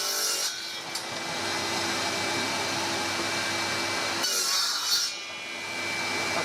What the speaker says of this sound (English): I'll turn the saw on. Just trim this one end off first.